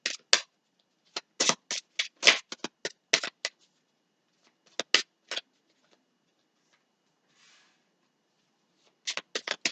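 Tarot cards are shuffled in close, crisp bursts of riffling snaps, separated by quiet pauses, with a final flurry of shuffling at the end and no voices.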